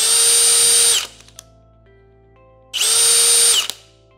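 Two loud bursts of a Milwaukee M18 FPD cordless hammer drill whirring at high speed, each about a second long, separated by a short pause.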